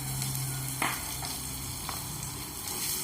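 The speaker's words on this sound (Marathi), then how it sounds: "हे आपण व्यवस्थित परतून घेऊया" Green chillies and ginger-garlic paste sauté in a hot pan, giving a soft, steady sizzle with faint scraping stirs now and then, quiet and alone.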